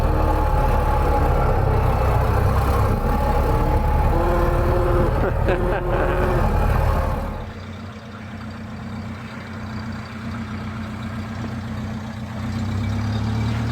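A 1930 Ford Model A pickup engine running on light throttle, a steady low drone that is loud at first, then drops to a quieter idle-like hum, with a voice talking over it.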